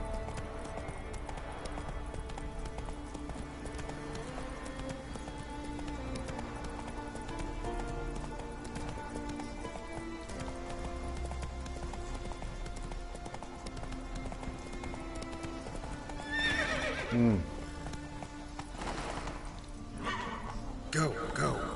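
A horse in a video game gallops with steady clip-clop hoofbeats and gives a neigh near the end, while a player talks over it.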